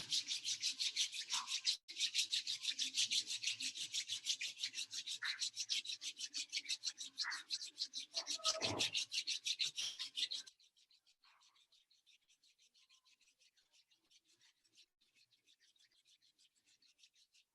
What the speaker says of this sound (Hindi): दोनों हाथ को रब कर लें